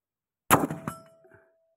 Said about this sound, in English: Every time I aim and shoot at the target, there's a hit on the gong.